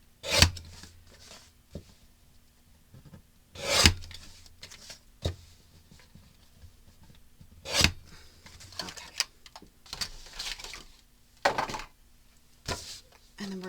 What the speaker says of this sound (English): I need to trim it just a tiny bit.